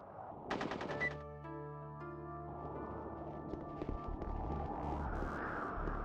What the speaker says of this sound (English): Someone was shooting.